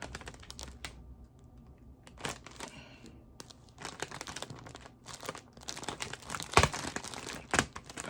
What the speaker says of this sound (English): I cut a X shape in the bag